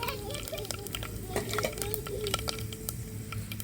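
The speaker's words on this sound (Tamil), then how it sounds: "கடுவும் வெந்தயமும் நல்லா பொரிஞ்சிருச்சு" Mustard seeds and fenugreek spluttering in hot oil, rapid irregular pops and crackles over a sizzling bed, close by, with faint voices and a low hum in the background.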